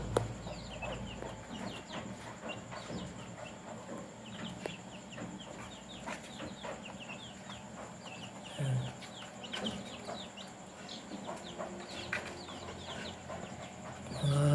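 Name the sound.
Muscovy ducks and ducklings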